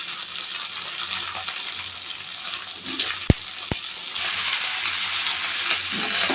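Cut vegetables go into a pan of half-fried onions, a steady sizzling hiss with two sharp metallic clinks near the middle as the pieces drop in and the frying carries on.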